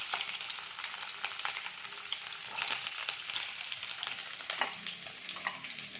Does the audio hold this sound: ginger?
yes